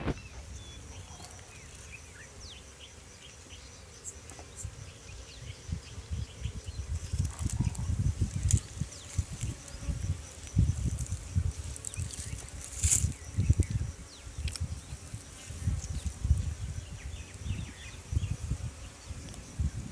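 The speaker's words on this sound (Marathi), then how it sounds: "आता या मधमाशा ज्या आहेत त्या आपल्या सातेरी मधमाशा आहेत" Sateri honeybees at an open hive on a bee farm make a steady close buzz, with many scattered taps and bumps of handling over it and no talking.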